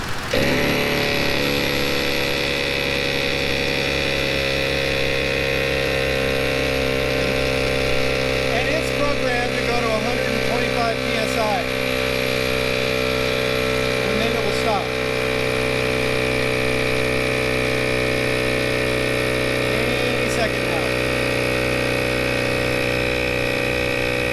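A 2022 vehicle's ARB onboard air compressor runs steadily, a loud continuous motor drone with a constant hum and whine that holds without a break, with a few faint clicks and rattles near the middle.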